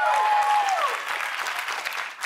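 Studio audience at a late-night comedy show applauding, a dense burst of clapping that starts loud and tapers slightly over two seconds.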